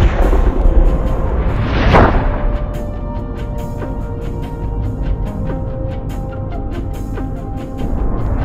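A BB gun fires at a CD target, punching a hole through the disc: one sharp, loud crack near the two-second mark, then a lingering rumble and faint mechanical background with no talking.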